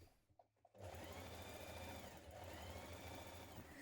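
A sewing machine stitches along the top outer edge of a jacket collar, starting after a brief quiet moment with a few soft clicks and then running in a steady, fast, close mechanical whir.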